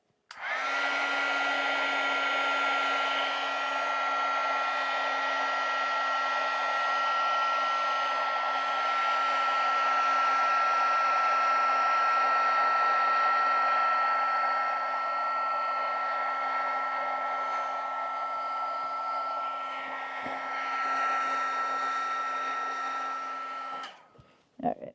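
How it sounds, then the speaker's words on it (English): A heat gun blows steadily and loudly at close range for about twenty-four seconds to dry paint on paper, holding a constant roaring hiss with a faint tonal whine, then shuts off. "I'm gonna hit that with a heat gun before I smear it anymore"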